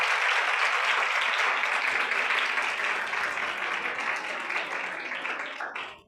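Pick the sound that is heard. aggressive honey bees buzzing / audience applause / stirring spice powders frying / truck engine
audience applause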